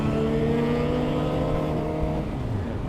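A Suzuki GSX-R motorcycle with a quickshifter pulls hard under a loud, steady engine drone, its pitch rising and holding before a slight dip near the end.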